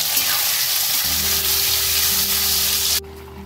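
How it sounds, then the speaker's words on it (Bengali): Marinated meat frying in a pan of oil with bay leaves, dried chillies and onion for biryani, giving a steady, loud, close sizzle that swells as the meat goes in and stops abruptly near the end. "ম্যারিনেট করা মাংসটা দেবো"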